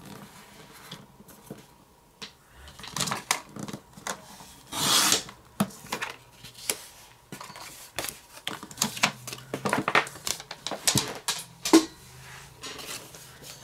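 Scissors or a blade cutting through a Project Life card made of thick cardstock, heard as close, irregular rasping snips and rubbing scrapes in bursts, with no voice over them.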